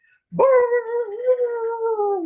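A human voice imitates a dog with a long, drawn-out howling whine, sustained and close, rather than short barks.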